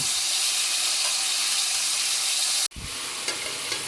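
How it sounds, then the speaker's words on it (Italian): Lamb pieces browning in a hot pan give a loud, steady, hissing sizzle that cuts out abruptly for a moment, then resumes slightly quieter with faint clinks. "Man mano che l'agnello si rosola, lo togliamo e lo mettiamo da una parte e aggiungiamo gli altri pezzi"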